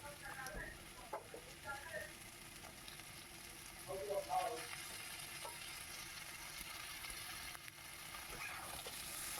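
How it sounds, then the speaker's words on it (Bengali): Long strips of ridge gourd sizzle gently in a hot pan with oil, a soft continuous frying hiss broken by a few scraping stirs, with faint talk in the background. "এখন লম্বা লম্বা করে কেটে রাখা ঝিঙেগুলোকে দিয়ে দিচ্ছি।"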